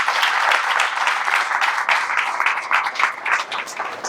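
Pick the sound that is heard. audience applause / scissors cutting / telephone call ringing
audience applause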